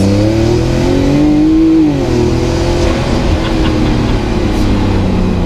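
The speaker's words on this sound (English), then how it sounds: "They've gone and made a modern day turbocharged engine that actually sounds good." A loud turbocharged flat-six engine of a Fenyr Supersport hypercar revs up and holds, rising then easing in pitch, a rich throaty growl close by with no talking.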